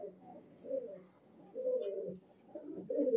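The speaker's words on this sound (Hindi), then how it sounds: "ये देखिए दोस्तों कबूतर देखिए" Punjabi blue pigeons coo softly in low, throaty, rolling phrases, several overlapping calls repeating close by with no talking.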